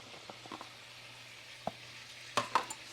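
An organic baby bella mushroom and onion veggie mixture sautés quietly in a pan, with a faint sizzle under a few scattered scrapes and stirring clinks, growing louder near the end.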